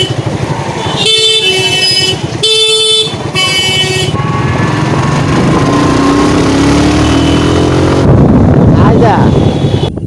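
A motorcycle rides along a road in loud, continuous engine drone, broken near the start by several sharp horn blasts from nearby traffic, with rising and falling engine pitch as it moves.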